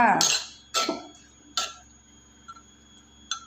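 Fresh shrimp and mussels being tossed together in a bowl, giving a handful of sparse clinks and knocks of utensil against the bowl, spaced irregularly with quiet gaps between them.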